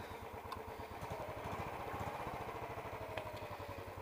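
A Royal Enfield Bullet 350 motorcycle idles on a cool morning with a steady, fast thumping beat and mechanical clatter, close and fairly quiet, with no voices.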